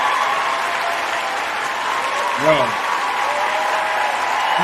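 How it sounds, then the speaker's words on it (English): Applause rolls steadily through a radio show interview in a continuous even wash, with a short spoken interjection briefly rising over it midway. "let me give her a round of applause"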